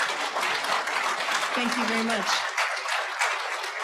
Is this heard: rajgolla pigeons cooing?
no